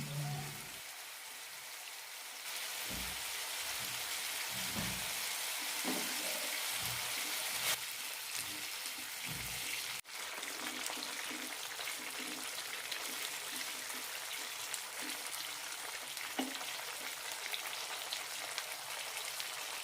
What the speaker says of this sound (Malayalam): രണ്ട് മിനിറ്റ് കൂടി നന്നായി വഴറ്റിയെടുക്കാം